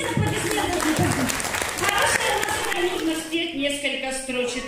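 A television studio audience breaks into applause, a dense burst of clapping that continues steadily with a voice speaking over it.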